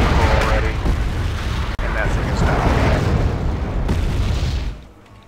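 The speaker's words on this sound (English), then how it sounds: "My artillery fire continues" Artillery fire in the war strategy video game Wargame, a dense, continuous rumble of booms and blasts that stays loud and then fades at the end, with voices talking underneath.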